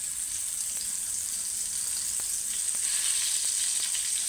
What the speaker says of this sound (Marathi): दोन्हीकडून चांगली फ्राय करून घ्यायची